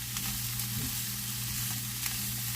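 Fajita vegetables sizzle steadily in hot oil as they are stirred, a continuous close frying hiss with faint scraping, no voices.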